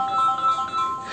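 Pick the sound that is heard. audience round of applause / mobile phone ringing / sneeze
mobile phone ringing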